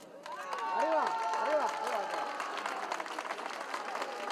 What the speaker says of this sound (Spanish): entre aplausos y felicitaciones de todos los presentes